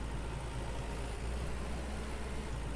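Steady low rumble of a tractor engine from the Farmer's Dynasty video game, a constant droning hum at moderate-low level with no talking.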